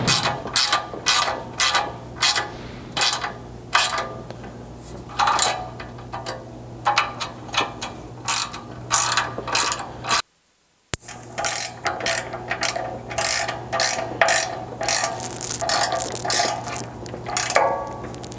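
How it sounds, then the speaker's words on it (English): A ratchet fitted with a 7/32 hex bit clicks in quick repeated bursts while tightening 3/8 bolts on a ZR2 Colorado front Blitz bumper, stroke after stroke up close, with one brief silent gap. "you want to tighten up the outside 3/8 hardware with a 7/32 hex"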